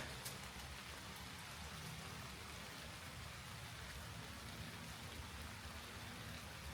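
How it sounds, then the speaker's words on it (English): Steady rain falls outside a screened patio by a dock on a windless day, a dense continuous hiss of drops on surfaces, even and unbroken throughout with no gusts or voices. "Steady rain and no wind."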